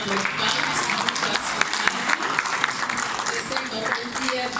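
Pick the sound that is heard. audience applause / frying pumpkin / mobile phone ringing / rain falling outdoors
audience applause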